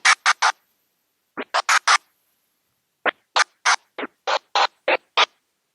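Rapid bursts of transformer scratching on a turntable, choppy stuttering cuts in clusters of three and four, loud and close with silent gaps between groups.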